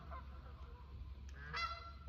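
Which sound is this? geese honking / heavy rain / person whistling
geese honking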